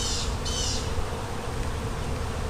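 Honey bees buzz steadily around an open nuc hive holding four frames of brood, a dense close hum with a few louder passes of individual bees near the ear.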